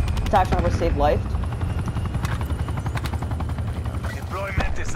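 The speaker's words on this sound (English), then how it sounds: "Attack chopper saved life." An attack helicopter in a video game thumps with loud, continuous rotor chop, and gunfire rattles faintly beneath it. Players talk excitedly over the rotor noise at the start and near the end.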